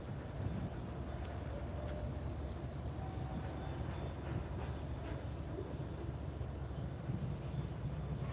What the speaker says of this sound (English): the train is about to make its move. It's moving now.